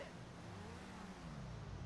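Car engine in a video game, a low steady drone that rises slightly in pitch, heard faintly and alone.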